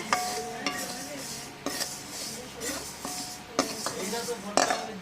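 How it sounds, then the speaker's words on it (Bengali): Moong dal being dry-fried in a pan on a home stove, with a spoon scraping and clinking against the metal in sharp repeated strokes. A soft sizzle sits underneath, and someone talks quietly in between. "আর এদিকে দেখো মুগ ডাল ভাজা হচ্ছে"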